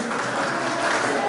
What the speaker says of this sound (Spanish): Fuerte los aplausos para Virgen de Chapi